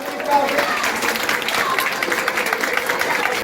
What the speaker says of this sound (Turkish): Hepsini biz büyükler olarak ve arkadaşlar olarak şöyle gönülden bir abi alkışlayalım